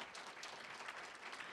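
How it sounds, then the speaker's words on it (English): A room full of guests applauds at an annual reception honoring women, steady dense clapping that holds at an even level without breaks, with a faint murmur of the crowd under it. "how about another round of applause for Joan, Myrna, Misty, and Carly."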